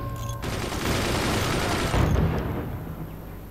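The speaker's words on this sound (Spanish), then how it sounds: "¿Qué cañonazo nos metió" Cannon fire strikes a base in the strategy video game Forts, a dense burst of booming impacts and crackling debris that fades after a few seconds, with no talking.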